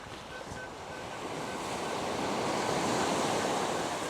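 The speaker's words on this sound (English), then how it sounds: "Well, the weather's not getting any better. It's getting windier." Wind blows and surf rolls steadily on a beach in showery weather, a broad continuous rush that swells gradually louder through the clip, with no voices.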